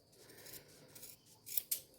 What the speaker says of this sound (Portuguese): passo a tesoura por dentro dele e agora eu corto